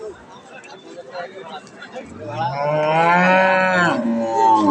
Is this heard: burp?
no